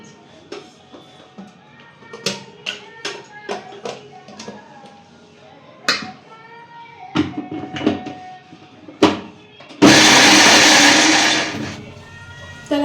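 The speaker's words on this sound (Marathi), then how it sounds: "अशा पद्धतीने मिक्सरला फिरवून घेतलं" A mixer grinder whirs loudly in a short steady burst near the end, after a stretch of kitchen clatter and someone talking at home.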